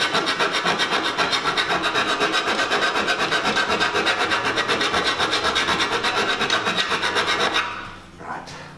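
Rhythmic back-and-forth rasping of a file cutting into a 4 mm metal tray, steady close strokes for most of the clip before stopping near the end.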